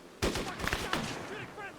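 A single sharp gunshot cracks out in the video game Arma 3 and trails off in a brief echoing tail, with faint voice-like sounds following.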